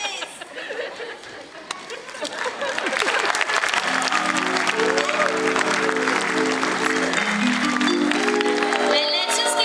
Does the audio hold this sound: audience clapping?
yes